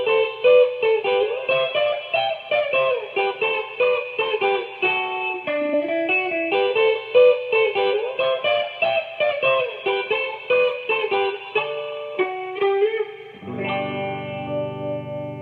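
Electric guitar plays an intro riff with picked notes and slides, steady and loud, ending on a ringing chord with no speech.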